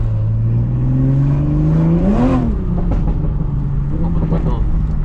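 Toyota Supra in sport mode accelerating, heard from inside the car: a loud, close engine drone climbs in pitch, peaks briefly, then settles into a steady cruising note.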